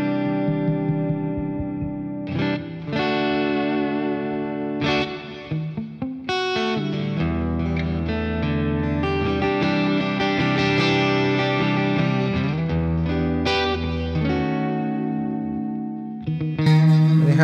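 Godin xTSA guitar heard through its piezo bridge pickup, giving a bright acoustic-style tone: sustained strummed chords and picked notes play continuously in a bachata style, loud and close with a touch of reverb and no talking.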